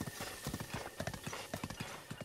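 Horse hooves clip-clopping in a steady galloping rhythm while riding in the video game Zelda: Breath of the Wild, with an occasional faint whinny, close and clear.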